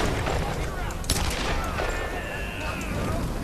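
Rapid gunfire in the Tomb Raider video game: dense volleys of shots with one sharp blast near the middle, loud and continuous through the whole stretch over a busy game soundscape.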